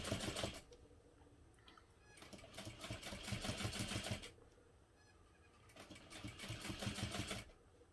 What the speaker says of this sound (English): you're stitching over your previous stitching here too